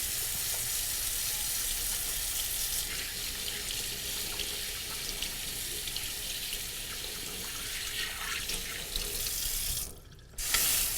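Cold water runs steadily from a kitchen sink tap while collard greens are being prepared, a constant, close, loud splashing hiss that holds for about ten seconds, then briefly dips and returns.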